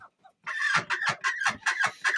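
A black hen clucking with her two young chicks on a farm, a run of short, close clucks in a steady rhythm after a brief quiet start.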